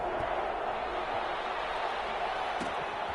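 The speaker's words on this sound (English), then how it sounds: "This crowd is ready" A football stadium crowd at a Tampa Bay Buccaneers versus New Orleans Saints game makes a steady, dense roar of many voices that stays even throughout, with a few faint thuds underneath.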